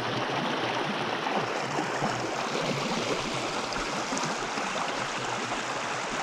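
Creek water flowing steadily at a gold-prospecting site, a constant broad rushing wash with no breaks, fairly faint and even throughout, with no voices.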